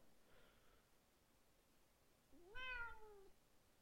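A single drawn-out cat meow rises and falls, close and clear, after a faint earlier mew in an otherwise quiet room.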